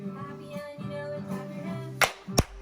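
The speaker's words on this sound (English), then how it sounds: "If you're happy now, clap your hands" Two sharp hand claps from a children's singalong, coming in quick succession near the end over soft melodic singing.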